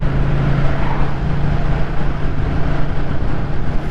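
Moto Guzzi V100 Mandello motorcycle being ridden, a steady loud engine drone with wind rush holding constant throughout, no talk.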